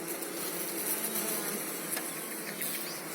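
Honeybees buzz steadily at an apiary hive, a dense, close, continuous drone that stays fairly even throughout, with no voices.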